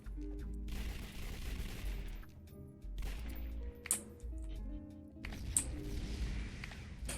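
An altar explodes during combat in a video game, heard as rumbling booms and gunfire-like crackle over a steady low game soundtrack, with a few sharp blasts standing out.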